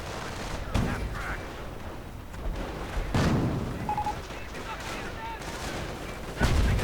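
Heavy gunfire pours onto a tank in a WWII strategy video game, with sharp bursts and booms over a dense battle din, loudest near the start, middle and end.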